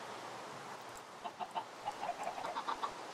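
Chickens cluck in a German Minecraft 1.8 game, a run of short, soft clucks rising over a quiet hiss in the second half, fairly faint and with no voices.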